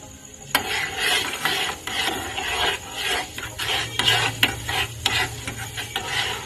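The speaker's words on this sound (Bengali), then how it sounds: "কারি পাতাগুলো একদম কালো হয়ে গেলে মুচমুচে ভাজা হয়ে যাওয়া পর্যন্ত আমরা এগুলোকে তৈরি করে নেব" Curry leaves frying in hot homemade hair oil, giving a steady crackling sizzle with scraping stir strokes, close and continuous with no talk.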